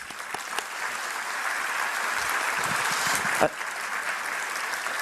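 An audience claps in a dense, sustained round of applause that fills the room, with steady hissing claps continuing throughout and one sharp thump partway through.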